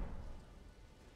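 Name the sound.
rain in the video game Elden Ring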